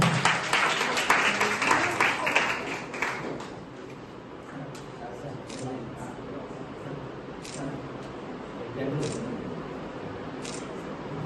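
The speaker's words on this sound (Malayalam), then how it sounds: "എല്ലാവർക്കും കൈയടിക്കാം" A crowd at a prize ceremony for an inter-school quiz competition at a college bursts into loud, dense clapping that fades after about three seconds, followed by murmuring voices and scattered camera-shutter clicks.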